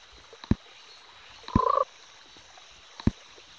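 Cartoon frogs in the Pocket Frogs mobile game give three separate croaks, short sharp clicks with one longer warbling croak between them, over a faint steady hum.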